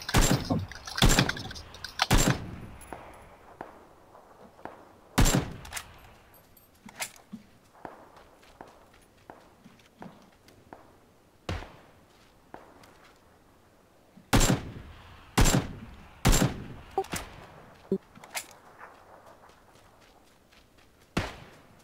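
Gunfire in PUBG, heard as scattered sharp cracks, some in quick clusters of two or three and others alone, separated by quieter stretches of faint movement and ambient rustle.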